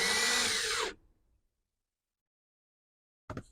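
A power tool drives a screw tight during a subwoofer install in a 2017-or-newer GMC Acadia, a loud whirring burst under a second long, then silence and a short second zip at the end.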